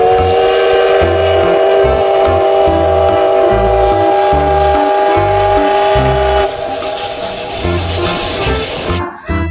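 Thomas toy train playing loud electronic train sounds with a sustained whistle-like horn tone over a rhythmic chugging beat, close and continuous until it stops with a click at the end.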